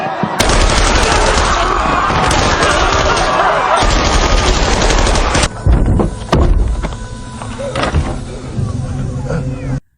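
Loud, dense gunfire from a Squid Game season two episode fills the first half in sustained bursts, followed by scattered shots and crashes over a continuing noisy background.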